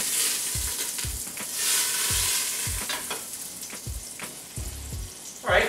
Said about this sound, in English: 3 tablespoons of butter, right into our pot. Doesn't need to be melted or anything, it'll melt once it gets in there